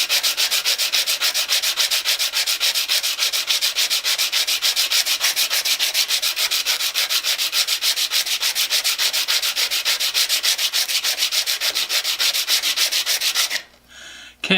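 A chisel's back is flattened on a hand-crank grinder, giving a loud, continuous rhythmic rasp of steel rubbing against abrasive, steady throughout before stopping abruptly near the end.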